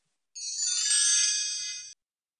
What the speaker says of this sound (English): Does Molly hear the doorbell ring?